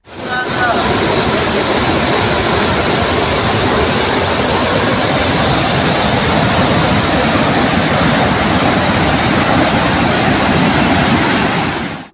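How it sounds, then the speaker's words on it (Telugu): Kuntala waterfall swollen by heavy rain, a loud constant roar of rushing, crashing water with no break from start to finish. "జలపాతం నుంచి లేస్తున్న మంచు తెరలు, గర్జిస్తున్న నీటి ధ్వని సందర్శకులను ఆకట్టుకుంటున్నాయి"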